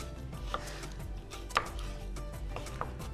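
A knife chops onions on a board in a kitchen, with several sharp, irregular taps heard close over a low steady background hum.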